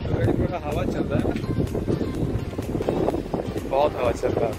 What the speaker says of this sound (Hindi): थोड़ा हवा चल रहा